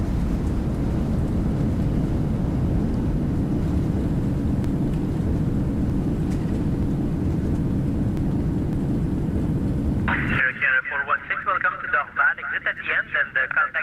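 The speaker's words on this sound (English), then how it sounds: "Great landing, reversers engaged." Thrust reversers roar on a Toliss A321 after landing in the X-Plane 11 simulator, a loud, steady broadband rumble that cuts off abruptly near the end and gives way to a radio voice.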